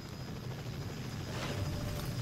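Steady engine drone of an aircraft in the video game Rogue Company, a continuous low rumble that holds level throughout with no speech over it.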